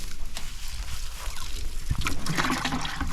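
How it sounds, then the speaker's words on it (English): Water drips and trickles from a chicken water feeder filled by a hose on a farm with mobile chicken cages, a loose splashing patter that grows busier toward the end. "It's dripping down because I had the hose"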